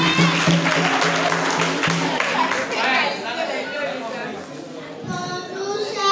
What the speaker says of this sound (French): Leslie, applaudissez Leslie